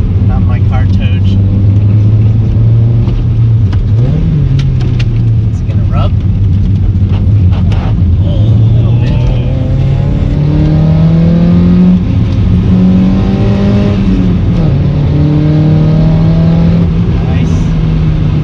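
Toyota AW11 MR2 with fresh bushings and coilovers, its engine revving loud and close while driving, pitch climbing and falling through gear changes, with people talking in the cabin over it.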